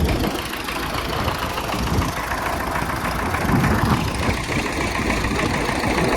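Tractor engine idling steadily before wheat sowing on a farm field, a loud close diesel rumble with a constant chugging knock throughout, with no talking.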